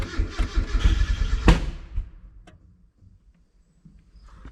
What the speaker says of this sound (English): it backfires a lot louder than it used to